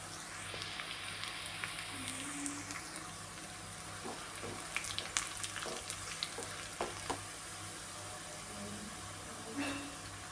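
Chilies, shallots, garlic and curry leaves fry in oil for tempering, a soft, steady sizzle with scattered small crackles and pops, fairly faint and close, with no speech.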